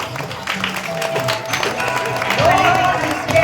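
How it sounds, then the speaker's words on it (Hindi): An audience claps for a yoga group performing asana pyramids, lively applause mixed with crowd noise while a voice speaks over it throughout. "एक बार जोरदार तालियों के साथ"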